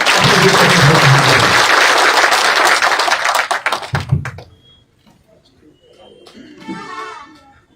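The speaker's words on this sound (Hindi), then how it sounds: "एक बार जोरदार तालियों के साथ" Loud crowd applause at an outdoor political public meeting in Gannaur fills the first four seconds, then fades out; afterward a voice speaks over quiet room noise.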